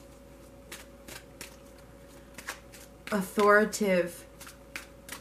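Tarot cards are shuffled up close in soft, rapid riffling bursts, with a short spoken word breaking in partway through.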